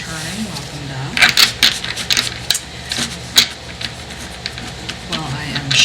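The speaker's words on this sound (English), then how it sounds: "While I am shuffling your cards" Tarot cards being shuffled by hand, quick papery riffles and taps in irregular bursts, close and fairly loud.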